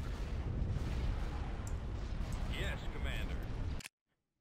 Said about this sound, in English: We're still taking fire.